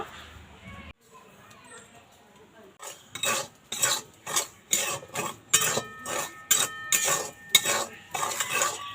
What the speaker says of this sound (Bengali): উনুনটা ধরিয়ে নিয়েছি এবার কড়াইটা বসিয়ে দেব